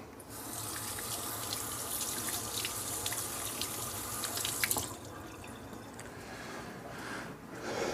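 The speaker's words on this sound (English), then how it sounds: "And do what you did before, wash your hands." Hands being washed under a running kitchen tap while cooking pork sirloin steaks, a steady close rush of water splashing into the sink with a brief louder splash near the middle.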